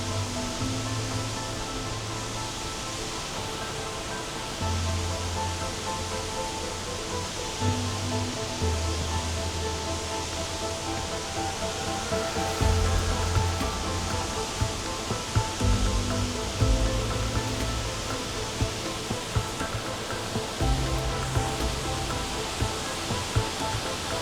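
The Uryu waterfall in Nakatsu Gorge, Kochi, pours with a steady, even rushing roar of falling water that fills the whole scene without pause.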